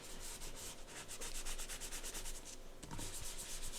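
Rough fabric scrubs steadily against card stock coated with soap during a DIY tarot card lamination, a continuous close, dry rasping with rhythmic back-and-forth strokes.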